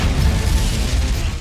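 A mountain blown up by police in a film, rendered as a loud, continuous booming explosion with dense low rumble and crackling debris that sustains for over a second before cutting off abruptly.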